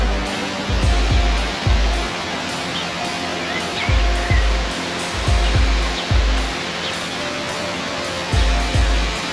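Waterfalls beside wooden boardwalks in a national park in Slovenia or Croatia give a steady, dense rush of falling water, broken now and then by low thumps.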